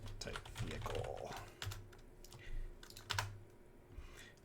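Keys on a computer keyboard being typed as a search entry, a short run of light clicking taps in irregular bursts, close and fairly quiet over a low steady hum.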